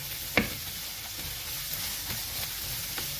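Sweet potato pieces going into a hot pan with onions for lumpiang sariwa filling, a steady close sizzle with stirring scrapes and a sharp hit as they land.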